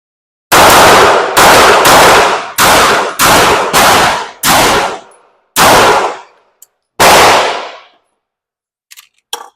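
Loud, close pistol gunshots fire one at a time, nine shots with short gaps that slowly lengthen, each ringing out briefly before the next.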